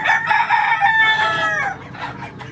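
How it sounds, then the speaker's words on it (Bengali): A rooster crows once, close and loud, in a long rising and falling call that trails off near the end, with no talking over it. "এই যে দেখেন মোরগ আছে"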